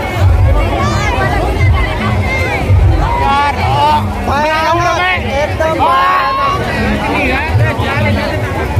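A dense, noisy crowd at the Kartikeshwar fair in 2022, with a continuous loud hubbub of many overlapping voices, shouting and chatter close around.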